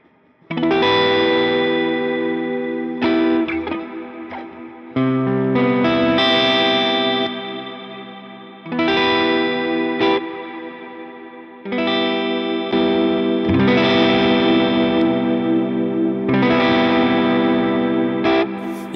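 An electric guitar runs through a NUX booster with its high cut engaged. Phrases of strummed chords come in four bursts separated by short pauses, sounding close and somewhat dulled with a chorus-like, effected tone.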